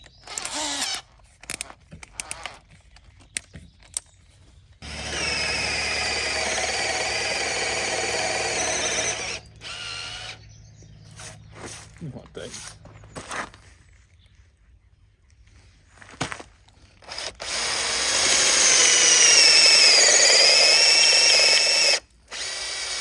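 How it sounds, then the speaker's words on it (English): A power drill whines in long bursts, grinding into a hard wall with a new bit, with pauses, clicks and handling noises between runs. "Let's give this incredibly nice drill bit its first outing."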